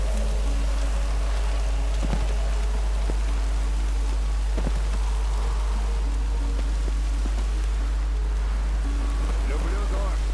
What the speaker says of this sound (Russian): Люблю дождь.